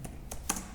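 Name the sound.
typing on a computer keyboard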